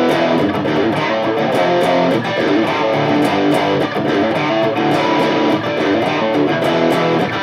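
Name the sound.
drop D guitar riff from a song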